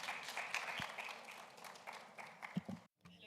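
Applause from an art book fair audience at IVAM in Valencia, a faint, steady patter of distant clapping that trails off and stops abruptly near the end.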